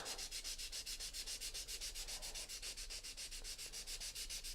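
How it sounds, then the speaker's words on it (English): Rapid rhythmic back-and-forth scraping of sandpaper by hand over painted wooden letters, light pressure, steady and even strokes at close range, about six per second, with no talking. "With light pressure, I'm going to sand these letters"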